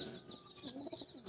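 Pigeons in an open loft give soft, fairly quiet coos and chirps in quick overlapping bursts.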